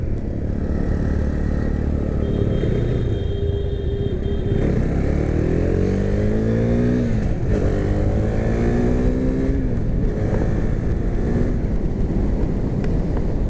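A 2017 KTM Duke 390 motorcycle engine revs loud and close while riding, its pitch climbing and dropping in repeated sweeps as it pulls through the gears over constant wind rush.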